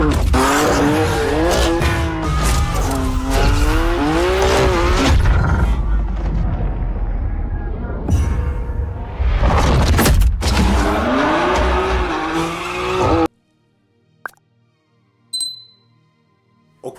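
A Mercedes with a transmission control module fault and intermittent limp mode is on a test drive. The engine revs rise and fall loudly through shifts with some tire noise, then it cuts to near silence with a few faint sounds.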